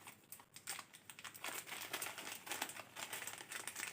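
A bunch of small plastic bags holding electronic parts is rustled and crinkled in a rapid, uneven stream of crisp crackles, close and fairly quiet, with no talking.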